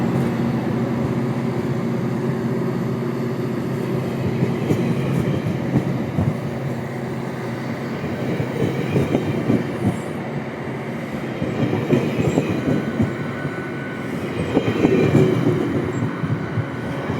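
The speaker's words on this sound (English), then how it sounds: "And now 620 MP40 621 is departure at Oriole Go Station." GO Transit train hauled by MP40 locomotive 621 departing Oriole GO Station with ten cars, a loud close rumble of wheels with rhythmic clickety-clack and faint squeals as the cars roll past.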